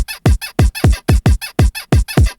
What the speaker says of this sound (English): Of course, you can't forget the bed squeak.